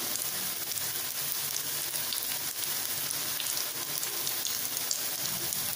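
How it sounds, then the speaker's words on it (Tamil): Beetroot cutlet frying in a pan, giving a steady, even sizzle and crackle that runs throughout at moderate level with no talking. "ஒரு பக்கம் ஃப்ரை ஆகிட்டுருக்கு, கொஞ்சம் கலர் சேஞ்ச் ஆனதும் இன்னொரு பக்கம் திருப்பி போடலாம்"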